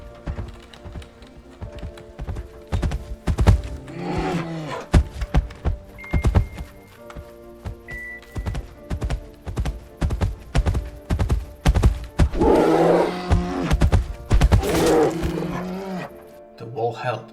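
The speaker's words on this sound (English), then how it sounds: "she heard it, the terrifying stomp" Heavy stomping footsteps of a bear land in a loud, irregular run of thuds and knocks, with bursts of growling or voice-like roaring rising between the impacts.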